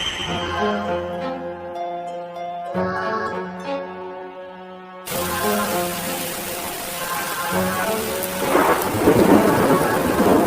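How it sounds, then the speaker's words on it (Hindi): Music plays, then heavy rain bursts in as a dense wash of noise, with a deep roll of thunder building toward the end. "वो रात बहुत बारिश हो रही थी।"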